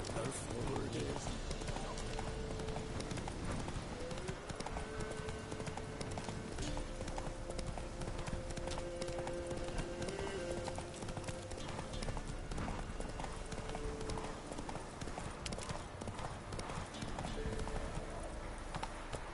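Horse hooves gallop in the Witcher 3 video game, a steady rhythmic clip-clop that runs throughout at low level alongside other game sounds, with voices present at times.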